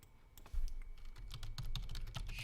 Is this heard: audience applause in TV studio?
no